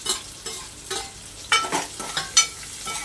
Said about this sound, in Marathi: कांदा आपला परततोय गुलाबी रंगावर